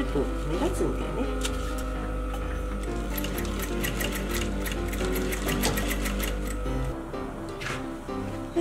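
A sewing machine stitches a bound buttonhole in thick fabric with a steady mechanical whir and rapid ticking, running continuously before stopping near the end, with a voice talking over it.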